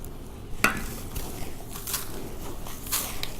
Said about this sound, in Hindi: और फिर अच्छी तरह इसको आप मिक्स कर दें।